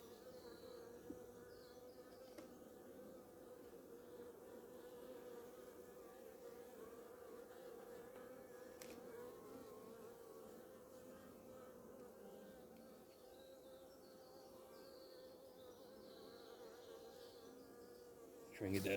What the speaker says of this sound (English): Those are some beautiful bees.